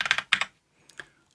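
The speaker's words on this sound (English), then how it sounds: "we'll just type in roughly 100 ohms" Typing on a computer keyboard, with a quick cluster of several crisp keystrokes followed by a pause and a couple of lighter taps, close and clear.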